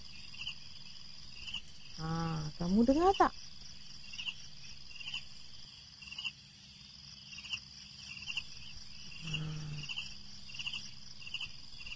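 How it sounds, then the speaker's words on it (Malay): Steady cricket chirping at night fills the background throughout, a continuous high trill, with brief speech and a couple of short noises breaking in. "Ada bunyi cengkerik."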